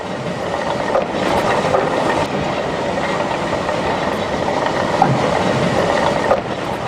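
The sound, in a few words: steam locomotive shunting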